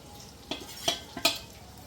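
Ground tomato paste goes into goat meat frying in a pot, giving a few short, moderately loud stirring and scraping bursts with a light sizzle between them.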